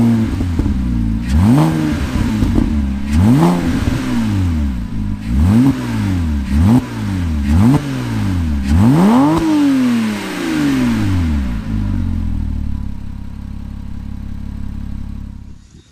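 A Porsche 987 Cayman fitted with a new, louder exhaust pulls away and accelerates through several gears, its engine note rising and dropping at each shift, then settles to a steady cruise; loud, close and with no talking.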